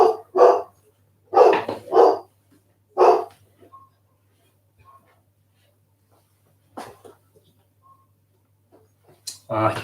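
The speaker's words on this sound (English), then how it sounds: "Coda is barking because other dogs in the locality are barking" A dog barks close by in several loud bursts, some in quick pairs, separated by long quiet gaps, with more barks later in the stretch.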